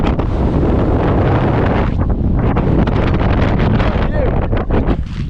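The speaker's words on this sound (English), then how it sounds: "Wow, it's so windy, I don't know if you can hear me." Strong wind on top of Kinder Scout roars and buffets the microphone throughout, loud and gusty, with brief lulls between blasts.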